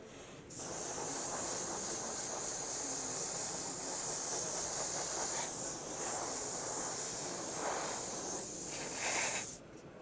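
Light misty coat being sprayed, a continuous soft airy hiss that starts half a second in, holds steady for about nine seconds, and stops near the end, close and fairly quiet with no talking.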